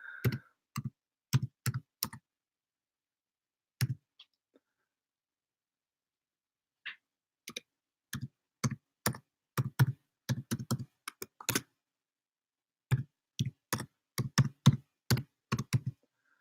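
Keys on a computer keyboard are struck in scattered clusters of crisp, close taps, with brief pauses and one longer silent gap between bursts.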